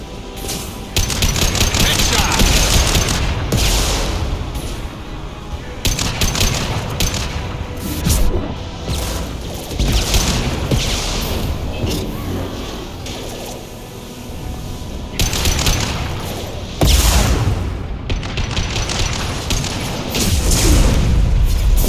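Gunfire and explosions in the video game Mass Effect 2: dense bursts of rapid weapon fire and heavy booms, loud and continuous throughout, with occasional voices from the game mixed in.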